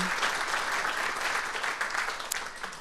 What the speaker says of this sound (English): Can we just give that 7 Days staff a round of applause?